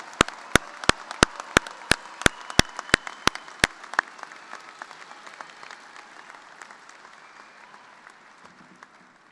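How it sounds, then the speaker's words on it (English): Spring commencement applause for new agriculture graduates at K-State: a few loud, evenly spaced claps ring out close by over a broad crowd roar, and the ovation gradually thins and fades. "Let's give our new graduates a big round of applause."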